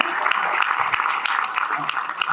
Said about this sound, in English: Please give David a round of applause once again, please.